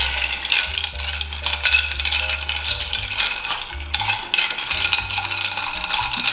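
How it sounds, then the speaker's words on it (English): A chopstick stirs ice in a bourbon Old Fashioned cocktail glass, producing a busy, continuous clinking and rattling of ice cubes, loud and close, with no voices. "You stir with a chopstick."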